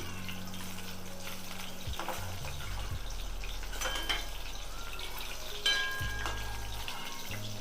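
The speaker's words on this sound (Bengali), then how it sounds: "মাছটাকে আমি উল্টে পাল্টে লাল লাল করে ভেজে নিচ্ছি" Steady oil sizzling and spitting as catla fish fries in a pan, with occasional clinks of a utensil against the pan.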